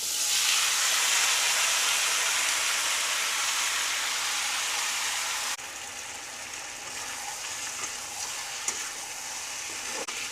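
Marinated chicken sizzling loudly in hot oil in a kadai, with cumin and a bay leaf for tempering in a village-style Bengali chicken curry; a strong steady hiss that drops in level midway, then continues with light stirring clicks.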